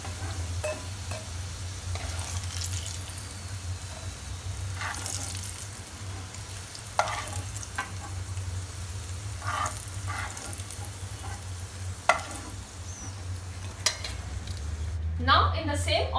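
Vegetables for masala broccoli potato frying in hot oil, a steady close sizzle with faint stirring and occasional utensil clinks, a brief louder clatter near the end.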